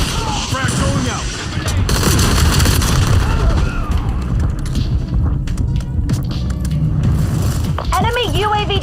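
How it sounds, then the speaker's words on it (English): A frag grenade blast in a military shooter game lands amid a dense barrage of gunfire and booms, with a spoken voice running over the continuous loud combat. "Frag going out."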